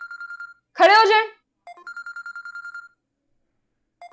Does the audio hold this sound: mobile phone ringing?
yes